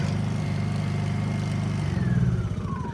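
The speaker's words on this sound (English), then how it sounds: "Here it is again with the Eco on." A Honda portable inverter generator runs in eco mode with a steady, close mid-pitched engine drone. Its tone shifts slightly partway through as the load or speed settles.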